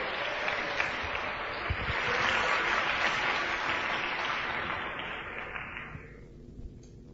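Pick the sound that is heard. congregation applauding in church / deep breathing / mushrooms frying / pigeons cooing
congregation applauding in church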